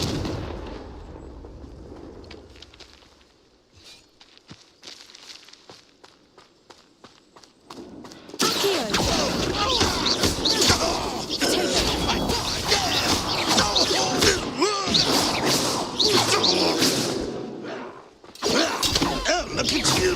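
A Confringo fire blast spell erupts in Hogwarts Legacy, a loud sustained roaring burst of crackling explosive noise that follows a quieter stretch of footsteps and clatter, with brief pauses in the blast.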